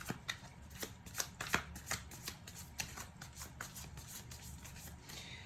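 Tarot cards being shuffled in a quiet room, a steady run of soft papery riffles and flicks heard close and alone.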